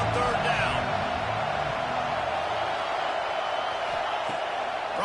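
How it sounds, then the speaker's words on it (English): A college football crowd roars steadily in a stadium during a third-down defensive stand in a video game, a dense, continuous wash of cheering with a faint commentator voice underneath. "Decibels rising as the crowd gets behind this defense on third down."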